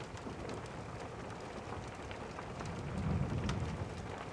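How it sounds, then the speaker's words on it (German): Steady rain falls around a mountain hut while a low, distant rumble of thunder swells faintly beneath the hiss near the end. "In der Ferne ertönt ein Donnergrollen, das den Himmel erbeben lässt"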